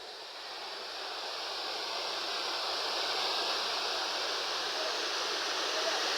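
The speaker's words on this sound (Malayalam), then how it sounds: "നല്ല വെള്ളം വരുന്നു ഒഴുകുന്നുണ്ട്" Waterfall at Kappimala in Kannur, a steady broadband roar of falling and rushing water that builds slightly at the start and then holds constant throughout, with no voices.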